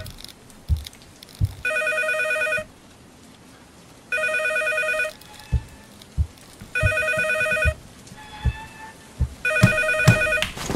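An entrance telephone in the horror game Cycle 616 rings four times in regular bursts of a piercing electronic trill, with thuds and footsteps between rings.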